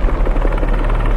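Helicopter rotor blades in a Spider-Man video game give a loud, steady, rapid pulsing chop, close and continuous with no voices over it.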